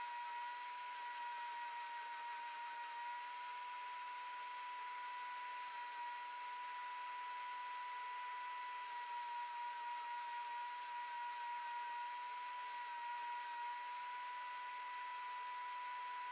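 Primer top coat being sprayed onto vanity tower cabinet pieces: a steady, fairly faint airy hiss with a faint constant hum underneath, running unbroken for the whole stretch with no voices.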